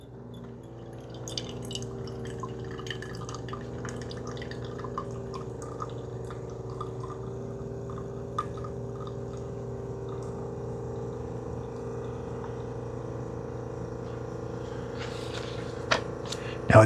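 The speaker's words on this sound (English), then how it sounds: "we're starting to get some coffee come out" A Keurig K-Crema coffee maker hums steadily as it pumps out a double shot of coffee, with faint drips and small clicks over the constant machine drone, ending in a slightly louder burst.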